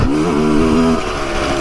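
A Sherco 125 two-stroke trial motorcycle revs hard at high engine speed, its raspy buzzing note rising and wavering, loud and close throughout, with a slight dip before climbing again.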